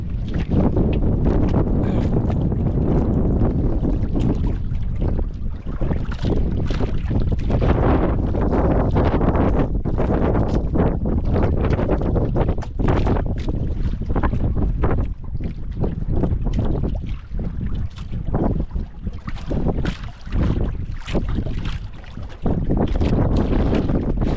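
Strong wind out on the open sea near boats, roaring and buffeting the microphone in loud gusts over a steady low rumble of water and engine noise.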